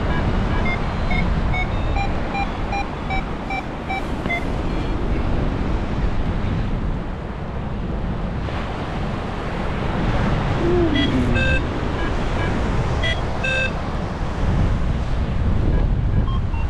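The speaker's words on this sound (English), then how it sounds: "Windy." Wind buffets a microphone outdoors during micro soaring on a windy day, a loud continuous roaring rumble with gusty swells throughout and faint tonal whines over it.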